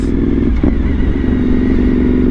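A Suzuki SV1000S motorcycle exhaust burbles at idle, a low, uneven throbbing rumble close by, steady throughout with no talking.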